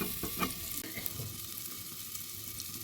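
Fenugreek greens with potato and flat beans sizzle steadily in a hot pan, with a few scraping stirs near the start and a continuous close frying hiss throughout, no voices.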